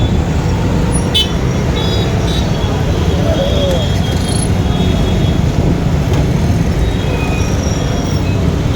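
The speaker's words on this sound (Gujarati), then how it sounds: "રિક્ષાઓ એટલી ને એમ ટ્રાફિક એટલી છે." Dense city traffic with auto rickshaws in Rajkot makes a constant loud engine din, with scattered horn toots rising above it.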